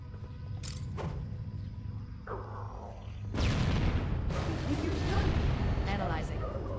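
Rocket launcher fire in the video game Halo, a quiet mechanical stretch with clicks giving way to a loud booming blast and rumbling explosions, with a voice speaking over part of it.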